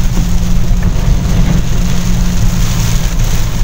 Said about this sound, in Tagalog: Oh, ulan. Ayan, inulan na kami.